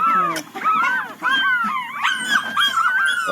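Several newborn puppies cry and whimper close by in a continuous overlapping chorus of high, wavering yelps, with a person's voice talking faintly underneath.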